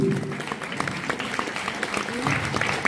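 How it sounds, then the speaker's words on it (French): Audience applause at a festive Irish folk dance afternoon, steady clapping from a crowd mixed with voices and background music, moderately loud throughout. "Et on applaudit."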